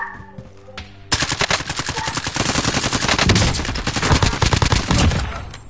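Rapid automatic gunfire from a first-person shooter video game bursts in after a brief pause and keeps going in dense, loud volleys, with crackling overlapping shots throughout.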